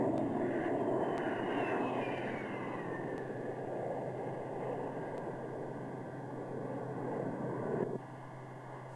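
An F-111 jet aircraft comes in to land, its engine roar a steady broad rush with a descending whine, fairly loud and unbroken, with no talk.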